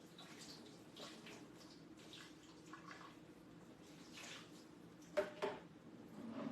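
Soft, quiet sloshing and trickling of water as marbled paper is rinsed in a garage, with gentle splashes and a couple of brief louder drips near the end.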